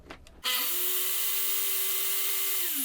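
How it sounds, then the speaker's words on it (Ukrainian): A corded Metabo mitre saw with no disc brake starts up after a brief quiet moment, whining up to speed within half a second and then holding a loud, steady high-pitched motor hum for over two seconds. "Поки акумулятор заряджається, подивимось, яку швидкість дасть нам мережева торцовочка."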